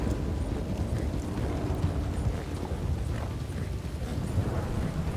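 Horse hooves clip-clop at a steady pace in the video game Red Dead Redemption 2, a continuous rhythmic patter over low wind rumble, with no voices.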